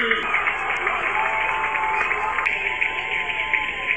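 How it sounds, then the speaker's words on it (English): A high school football crowd at a Vista Panthers versus Torrey Pines game cheers and applauds after a long run, a steady loud roar of applause throughout with a few sharp claps standing out. "he fires up this crowd"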